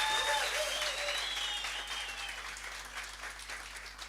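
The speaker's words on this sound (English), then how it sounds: "So let's give our finalists a round of applause." An audience at a workshop and expo claps steadily for finalists, a full round of applause that gradually tapers off, with faint whistles early on.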